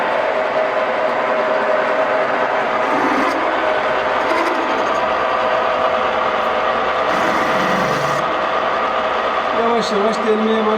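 A drill press running at 710 rpm, set for drilling a hole, gives a steady continuous mechanical hum and whine that holds evenly and loudly throughout, with faint metallic ticks near the end.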